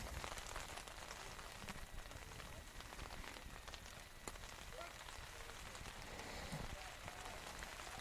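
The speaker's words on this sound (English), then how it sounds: "here in the rain. Been raining for a while now." Rain pours steadily over a high school baseball field during a game, a dense, even hiss of drops with occasional sharper taps, heard at low level.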